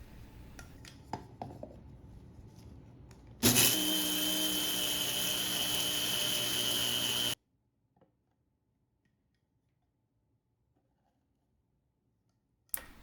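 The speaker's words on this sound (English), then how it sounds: "I will grind at least 3 cups of oats into flour and add it into my dough" An electric grinder loudly grinds oats into flour for a lentil oat snack dough, a steady whirring burst of about four seconds that stops abruptly, after softer kitchen clatter and followed by near silence.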